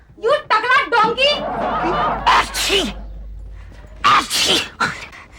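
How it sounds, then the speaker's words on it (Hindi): A man sneezes in a Hindi comedy show scene, with two or three loud, abrupt sneezing bursts among animated talk from a man and a woman. "शादी के बाद भी तुम इसी तरह छींकते रहोगे"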